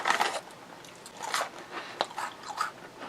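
Tabasco-flavored Cheez-It crackers crunched close up, a rapid series of crisp, dry bites and chewing bursts in uneven clusters, loud and right at the mouth with no talking.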